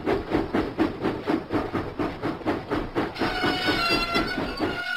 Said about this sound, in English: James pumped his pistons and puffed out of the docks.